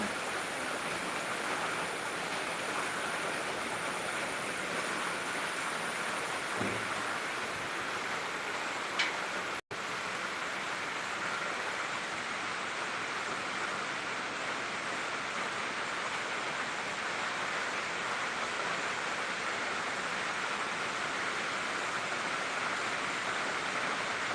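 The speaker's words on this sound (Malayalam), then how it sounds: "ഇപ്പൊ നല്ല മഴ പെയ്യുന്നുണ്ട്" Steady, dense hiss of heavy rain pouring down continuously, with one faint brief click partway through.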